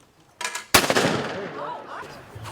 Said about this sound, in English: safely supervised trap shooting